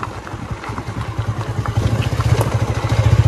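Motorcycle engine while riding, a close, steady mid-pitched thrum with rhythmic pulsing that grows louder and more pronounced toward the end, with no voices over it.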